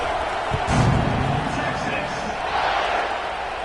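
A football stadium crowd at kickoff of an Auburn vs Miami game gives off a broad, sustained roar that swells slightly, with a commentator's voice over it.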